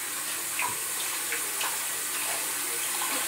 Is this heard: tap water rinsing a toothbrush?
yes